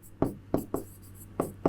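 A teacher writes chemistry equations on a board, producing a handful of sharp chalk taps and strokes at an irregular rhythm, close and fairly clear with no talk over them.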